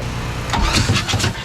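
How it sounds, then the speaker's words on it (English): The starter on a boat's 350 engine cranks after the boat sank and took on water, giving a short, loud, rhythmic churning close by with an engine rumble under it. "Alrighty, see if the starter's still good."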